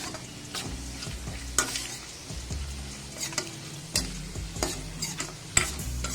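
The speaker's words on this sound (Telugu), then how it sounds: "త్వరగా వేపాలి" Ginger pieces fry in hot oil in a pan for a spicy hotel-style chutney, a steady sizzle broken by repeated scraping stirs and occasional sharper clinks of the spoon against the pan.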